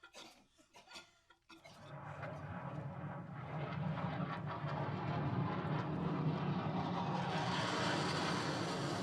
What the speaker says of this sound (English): Colonel Fabian Simon commanding 8 fighter jets, reporting to Colonel Evan Van Turion.